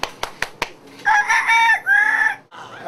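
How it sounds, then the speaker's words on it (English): A rooster crows on Coney Island, a loud, drawn-out call following a few sharp snaps or taps, then a shorter trailing crow at the end. "That's the rooster of Coney Island."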